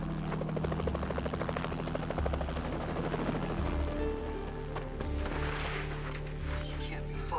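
Helicopter overhead in a thriller film scene: a loud, steady rotor chop pulses throughout, with talking heard over it.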